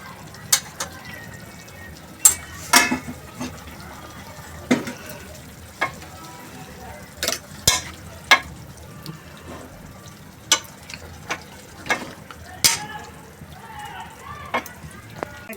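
Kathiyawadi undhiyu vegetables are stirred in a pan over the gas, sharp spoon taps and scrapes landing every second or so above a soft, low background sizzle.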